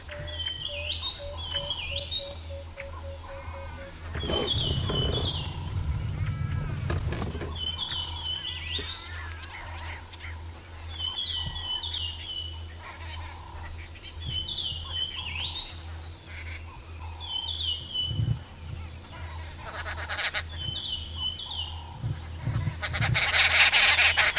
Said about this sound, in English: Isn't this the most beautiful dawn chorus?